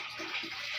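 Water runs steadily from a tap into a container, a short close hiss of flowing water with no speech.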